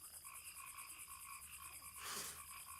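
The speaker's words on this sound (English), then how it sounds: "If there are frogs, there's probably some kind of river nearby that we should explore" Frogs croak in a steady, rhythmic chorus as faint background ambience in a D&D homebrew game, with a brief louder swell near the end and no voices over it.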